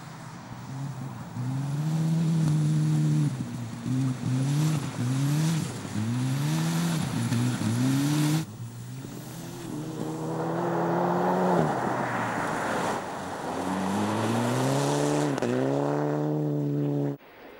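Rally car driving off-road at full throttle, its engine revving hard and climbing through repeated gear changes, loud and close throughout, with a brief dip in the middle before it winds back up and cuts off abruptly.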